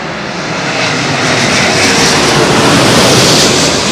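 An Airbus A330neo jet passes low overhead on arrival to Heathrow runway 27L, a loud, steady, broadband engine roar that swells and holds close throughout.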